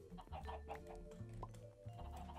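Chickens cluck repeatedly in the Minecraft video game, faint game sounds with short clucks scattered through a quiet background.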